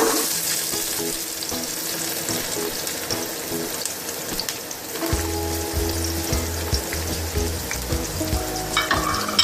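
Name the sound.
onions and whole garam masala frying in oil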